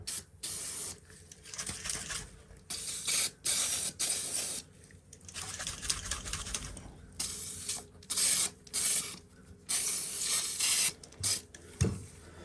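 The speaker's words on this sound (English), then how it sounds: "I'm gonna go ahead and spray this down with oil." Bursts of aerosol oil sprayed onto a cheap fixed-blade yard-sale knife, several hissing blasts of varying length separated by short pauses, close and fairly soft, with a faint rubbing or clicking sound near the end.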